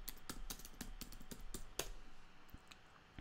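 Quick bursts of keystrokes on a computer keyboard while entering a git commit message, irregular clicks in short runs, close and fairly quiet, with no one talking.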